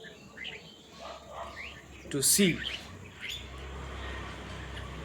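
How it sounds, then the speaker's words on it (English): Birds chirp around a house, scattered soft tweets with one brief louder burst of calls midway, over a faint steady hum, while a person talks. "how many birds come to my house"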